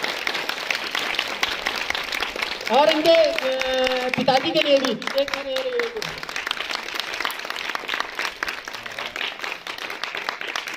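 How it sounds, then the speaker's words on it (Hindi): An audience at a school Independence Day event claps continuously, a steady loud wash throughout, while someone speaks over the applause. "जोरदार तालियां बजती रहनी चाहिए भाई।"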